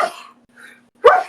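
A person sneezes once, sharp and loud and close, after a few faint breathy sounds, during a Star Wars tabletop role-playing session.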